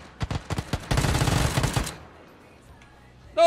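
Bursts of gunfire in PUBG: a few separate sharp shots followed by a dense rapid volley lasting about a second, then a quieter tail before a loud sound cuts in at the end.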